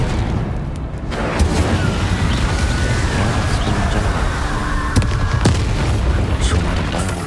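Incendio fire spell bursts in Hogwarts Legacy, a dense booming blast with crackling, sustained fiery roar, loud and continuous with a few sharp hits and other spell effects layered in.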